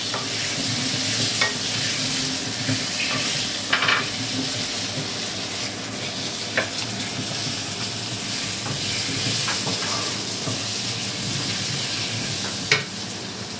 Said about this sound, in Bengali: আলুটা আমি খুব সুন্দর করে ভেজে নেব বেশ দাগ দাগ করে ভেজে নেব